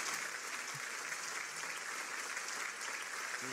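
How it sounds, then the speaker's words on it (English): A steady wash of audience applause at a Rally of Hope event, thanking child performers, sustained evenly and moderately loud throughout with no talk over it. "applause to thank the little angels"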